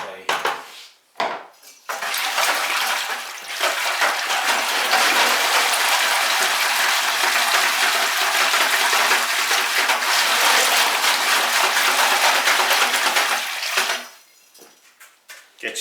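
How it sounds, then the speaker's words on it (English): Raw glaze in a bucket being stirred with a caterer's whisk, a steady broadband sloshing and scraping that runs continuously for about twelve seconds, fairly loud and close, with brief knocks at the start and end. "Get yourself a caterer's whisk, useful."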